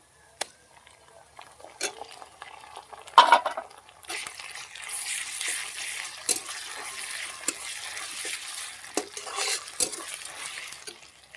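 Onions fry in a pan, stirred until reddish-brown, as a hiss of sizzling builds after a sharp metallic clatter, broken by intermittent scraping strokes of a utensil, close and fairly loud.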